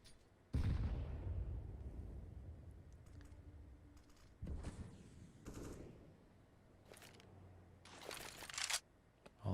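A grenade goes off during a Counter-Strike match, a sudden loud blast followed by further gunfire bursts and sharp game effects, spaced out across the clip with no commentary over them.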